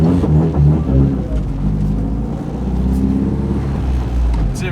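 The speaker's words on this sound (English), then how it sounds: "try to launch a little harder here without doing a burnout" A Honda EK hatchback with an all-motor H-swap launches hard down a drag strip, its engine roaring loud and close with rising, revving harmonics throughout, a steady strained wail that dips briefly before pulling again.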